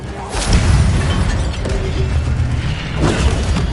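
An Incendio fire spell cast in the Hogwarts Legacy video game gives a loud rumbling burst of fiery whoosh with low booming impacts. The sound swells again near the end.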